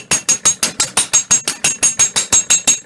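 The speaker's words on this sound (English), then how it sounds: "the hammer's hitting nice and solid on the steel block below" A hammer strikes copper sheet lying on a steel block, about fourteen sharp, ringing metallic blows in a fast, even rhythm, loud and close with no voices.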